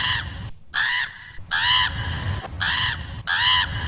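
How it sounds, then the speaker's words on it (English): Four loud, harsh crow caws repeat at a steady pace, each a drawn-out rasping call with short gaps between, heard over a faint low hum in the background of a Simpsons nuclear power plant exterior. "In nearly every establishing shot of the power plant, a crow can be heard."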